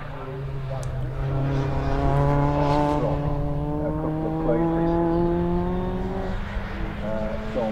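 Rallycross race car, number 52, on the hairpin during a BTRDA Clubmans Rallycross Championship round, engine droning steadily with rising and falling harmonics under continuous commentary.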